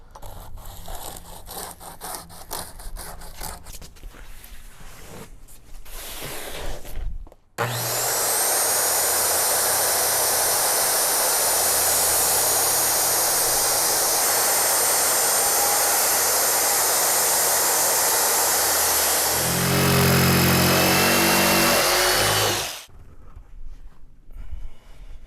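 A saw cuts the back strip of a plywood base plate for a DIY Four Wheel Campers truck camper interior. Quieter handling noises lead into a loud, steady powered cutting whine of about fifteen seconds, close up, then it winds down.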